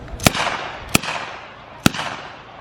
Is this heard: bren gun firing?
yes